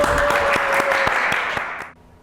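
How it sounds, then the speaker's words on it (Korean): Scattered hand claps from a small group under a steady bright hum, a sharp burst of clapping that dies away after about two seconds. "야, 박수."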